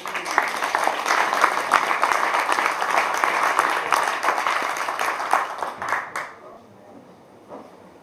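An audience applauds a folk musician at a live performance, a sustained burst of many hands clapping close and loud that tapers off after about six seconds into quiet, with some talk mixed in.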